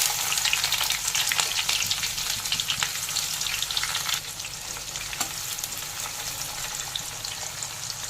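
Chopped onion frying in hot mustard oil with cumin seeds, a dense continuous sizzle with stirring scrapes, close and steady, easing slightly partway through, with no voices.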